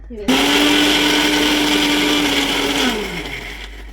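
A mixer grinder blends two onions and two tomatoes into a paste for mutton biryani: a loud, steady motor whine runs for about two and a half seconds, then winds down and fades.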